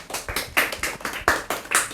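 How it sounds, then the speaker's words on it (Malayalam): An audience clapping at a Gandhi Jayanti event in a village reading room: a short, steady burst of applause with distinct, even claps, close and lively, and no talk over it. "എല്ലാവരും സാറിന് വേണ്ടിയിട്ട് ഒരു നല്ല കയ്യടി കൊടുക്കണം."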